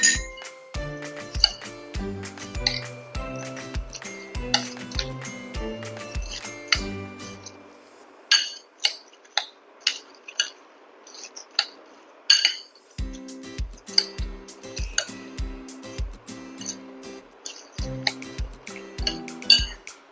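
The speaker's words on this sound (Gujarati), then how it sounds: "શીંગ અને પોટેટો ચિપ્સ જે ફરાળમાં ખવાય એ મિક્સ કરીશું." Peanuts and potato chips for a sago bhel are tossed together in a bowl, giving a steady run of crisp clinks and rattles with a short quieter gap midway, close and alone with no talk.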